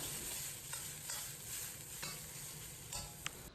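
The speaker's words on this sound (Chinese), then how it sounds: "放入焯水的鱿鱼，放入韭菜根，开大火快速翻炒" Blanched squid and chive stems stir-fried in a wok over high heat with ginger and dried chili, a fairly quiet continuous sizzle broken by repeated short scrapes and tosses of the spatula.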